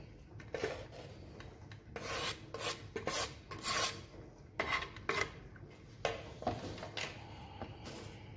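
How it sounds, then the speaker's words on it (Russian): Cheese is rubbed over a fine kitchen grater in a series of short rasping strokes with brief pauses between them, close and fairly quiet, with no talking. "Сыр натираем на мелкой терке."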